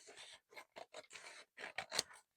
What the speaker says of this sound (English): now I am going to take my scissors. I'm going to neaten off all these bits